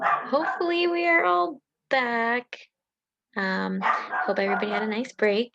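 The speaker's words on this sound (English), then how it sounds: "hopefully you can't hear my dog, but he's barking really loud" A pet dog barking loudly indoors, its barks mixed in with a person speaking close by for most of the stretch.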